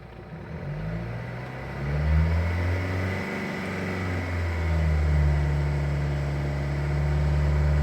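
A car engine is revved up and held at around 2,500 rpm during a battery charging test, its steady drone climbing in pitch and holding there, close and continuous with no talk.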